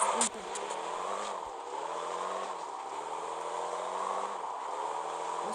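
A car engine in the mobile game Car Parking hums steadily with a smooth mid-pitched drone that shifts slightly in pitch as it revs, constant and moderately quiet throughout.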